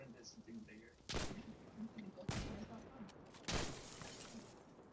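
Gunfire in the video game Insurgency Sandstorm, three sharp loud shot bursts spaced about a second apart with echoing tails, faint background between them.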